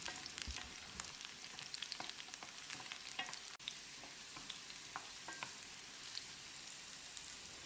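Garlic cloves, about twenty-five of them, sizzle and crackle steadily as they are stir-fried in a pan for a hot tomato chutney, with scraping stirs, close and moderately loud, no talking.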